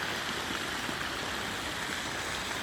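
Water in a Japanese garden pond at Anadolu University in Eskişehir runs in a soft, even trickle, a faint continuous flow with no voices.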